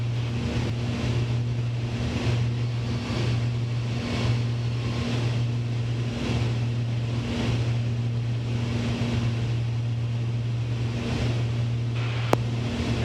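A small plane is on its takeoff run from runway 1, its engine drone steady and loud for the whole stretch, with a rhythmic pulsing throb and no speech.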